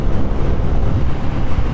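Steady, loud wind buffeting on a BMW R nineT Pure motorcycle cruising at about 110 km/h on a highway, a continuous low roar with no break and no talking.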